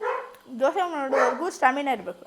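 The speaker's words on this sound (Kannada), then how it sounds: "ನಮ್ಮ ನಾಯಿ ಬೊಗಳ್ತಾನೆ ಇರುತ್ತೆ ಗೈಸ್" A pet dog named Blackie barks at home in short bursts, mixed under a person's steady close talking.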